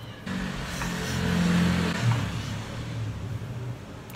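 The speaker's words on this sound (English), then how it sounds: "There's a lot of mopeds around." A moped engine on a Crete street rises and falls in pitch, revving as it passes close by. A second buzz follows briefly, and no one speaks.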